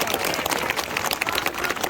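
A crowd at an outdoor political gathering in Karnal claps in support, with a brisk, steady burst of many hands close by throughout.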